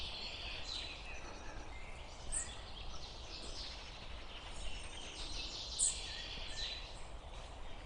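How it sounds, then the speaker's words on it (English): Birds sing and call by the River Darent on an autumn walk, a faint, steady wash of high chirps over a low outdoor hum, with a couple of brief sharper notes standing out, no talking. "An awful lot of bird noise today, very noisy."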